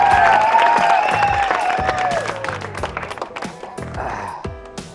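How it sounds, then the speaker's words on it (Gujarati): A studio audience on a game show claps in a thick, continuous wash, with a lively voice ringing out over the applause before it thins and tapers away. "એમના માટે જોરદાર તાળીઓ થવી જોઈએ"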